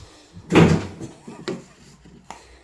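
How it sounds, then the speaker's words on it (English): A kitchen drawer is shoved shut with a loud thump that fails to latch, followed by a couple of softer knocks and rattles as it is pushed again, with faint voices in the background. "That silly drawer doesn't like to close, does it?"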